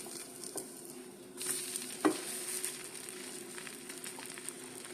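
Sweet bread toasts in ghee on a pan with a soft, low sizzle, a few light scrapes and one sharper clack as it is flipped, fairly quiet and close.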